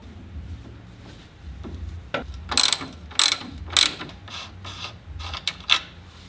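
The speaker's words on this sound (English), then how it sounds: "Now we're gonna remove the 3 nuts that are holding the top of the shock in." A ratchet clicks in several quick bursts while backing off the nuts on the top of a shock during a suspension lift install on a 2020 Toyota Tacoma TRD Pro, close and crisp over a faint background hum.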